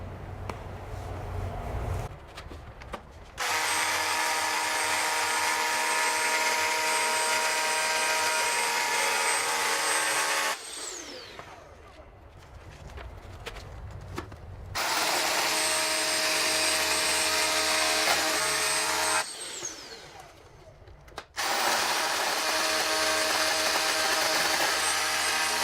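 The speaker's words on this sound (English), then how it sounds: "now I changed the drill bit and we are going to make the final holes." A power drill fitted with a larger bit bores final holes for running home network cable, in two long sustained whirring bursts that start and stop abruptly, with quieter spells and faint handling sounds between them.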